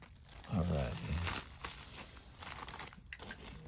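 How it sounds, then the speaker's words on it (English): A plastic bag attached to a comic book pack crinkles and rustles in short bursts close to the microphone, while a person talks over the start. "there is a plastic bag attached."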